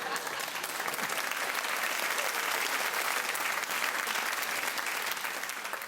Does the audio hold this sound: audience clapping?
yes